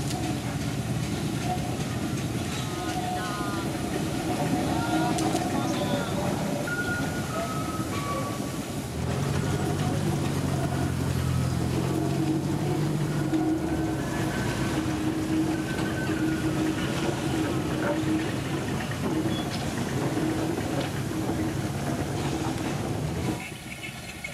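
A 1912 Orenstein & Koppel locomotive pulls an empty 700 mm gauge train out of a works yard in Java, giving a loud, continuous rumble of rolling wagons with clattering wheels and occasional squeals throughout.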